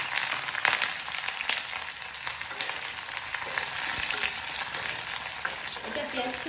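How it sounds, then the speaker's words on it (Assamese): Onions frying in hot oil in a kadai give a steady, close sizzle with occasional stirring scrapes, continuous and fairly loud with no voices. "এতিয়া পিঁয়াজখিনি আমি ভালদৰে ভাজি ল'ম"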